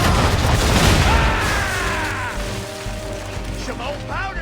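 A ship's cannon broadside in Assassin's Creed III, a heavy close boom rolling into a long rumbling decay with debris and crackle, followed by faint shouting.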